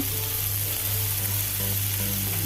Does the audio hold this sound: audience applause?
no